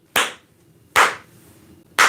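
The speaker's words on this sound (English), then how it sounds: "And it's a slow clap." A slow clap sounds three times, each a single loud, sharp, separate hand clap about a second apart, with near silence in between.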